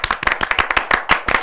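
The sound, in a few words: loud clapping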